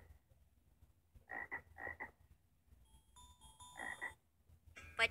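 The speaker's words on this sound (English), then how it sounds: "It's a frog." A frog croaks in several short paired bursts in a quiet jungle setting, close and clear, with a brief bell-like chime in between and a sharper sound at the end.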